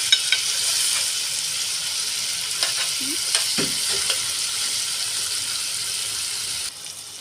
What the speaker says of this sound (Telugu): ఇలా ఆయిల్లో మగ్గుతుంది కదా, ఒక 10 నిమిషాలు మగ్గిన తర్వాత మళ్ళీ చూద్దాం మనం.